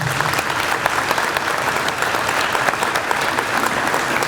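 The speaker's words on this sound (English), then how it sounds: "let's give them all one more round of applause" Sustained audience applause at a school grand opening ceremony for a technology and classics academy, a dense, steady wash of clapping filling the hall from start to finish with no speech over it.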